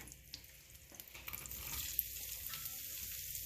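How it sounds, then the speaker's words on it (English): Chopped onion sizzles and crackles steadily in a hot pan, the start of a vegetable egg frittata, with faint stirring scrapes over a constant frying hiss. "So we're going to put a little onion first."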